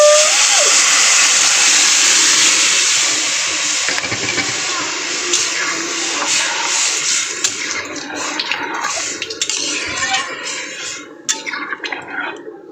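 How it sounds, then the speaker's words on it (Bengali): Lentil dal boiling in a pan after fried garlic and onion, a strong steady hiss and bubbling that starts loud and close, then thins into scattered pops and splutters toward the end. "ডালটা কিন্তু আমার ফুটে গেছে"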